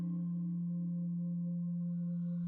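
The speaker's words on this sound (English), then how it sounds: "like the sine wave," A synthesized sine wave tone with few overtones, a pure, steady low hum held evenly for over two seconds with only faint higher partials.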